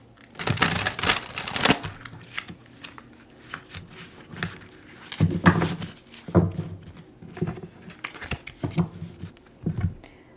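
A deck of tarot or oracle cards is shuffled up close for a pick-a-pile reading, in uneven bursts of riffling and flicking with short pauses between them.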